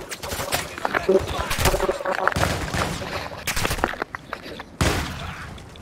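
Bursts of gunfire in Call of Duty MW2 DMZ, sharp repeated cracks in quick clusters with loud close shots, mixed under excited talking voices.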